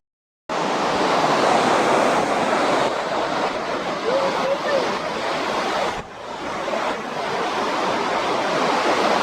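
Hebbe Falls waterfall pours down a rock face in a steady, loud, close rushing roar. It holds constant apart from a brief dip partway through, with no voices.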